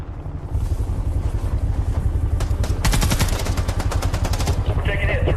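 Machine-gun bursts and rapid gunfire rattle in a movie battle scene over a low, continuous engine-like rumble. The fire is dense and loud and intensifies toward the middle.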